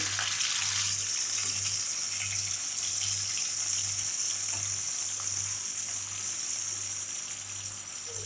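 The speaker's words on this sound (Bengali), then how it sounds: "এবার একটা একটা করে আলুগুলো দেবো, বেশি তো আলু নেই, খালি মা আর মেয়ে খাবে, তাই জন্য কটা আলু দিয়ে দিচ্ছি তেলে" Potatoes fry in hot oil with a continuous, fairly loud bubbling sizzle that stays even throughout, over a low electrical hum, with no one talking.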